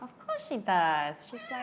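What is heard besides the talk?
pet cat meowing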